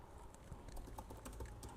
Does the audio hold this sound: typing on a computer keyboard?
yes